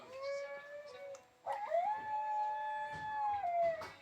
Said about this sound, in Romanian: E fără îndoială un husky siberian.